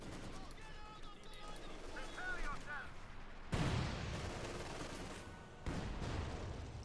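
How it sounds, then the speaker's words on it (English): A field gun fires in Company of Heroes 2, its shell striking a house: two heavy booming blasts with lingering rumble, the first loud and the second a little later, over continuous talk and battle ambience. "Field gun shoots, hits the house."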